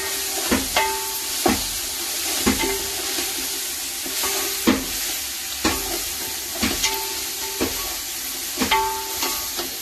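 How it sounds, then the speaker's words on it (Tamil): Green chilli, ginger and garlic paste sautéing in hot ghee for peas pulao: a steady close sizzle with regular scraping stirs of a spoon against the pan, no voices. "பச்சை மிளகாய் இஞ்சி பூண்டு பேஸ்ட் போட்டோம்ல, அதோட பச்சை வாசனை போற வரைக்கும் நல்லா வதக்கணும்"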